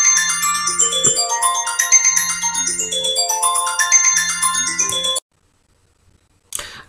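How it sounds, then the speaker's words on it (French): A mobile phone ringtone plays a bright, stepped melodic tune in repeating phrases for about five seconds, fairly loud and alone, then cuts off abruptly into silence before a brief noise at the end. "j'ai mon téléphone qui a sonné"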